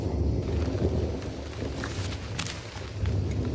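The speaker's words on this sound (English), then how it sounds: "this is, of course, a rainforest" Rain pours steadily over a rainforest while a low rumble of thunder rolls beneath, a dense, continuous wash of drops with no voices.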